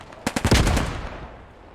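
A short burst of Sten submachine gun fire in Post Scriptum, several quick close shots followed by a long echoing decay.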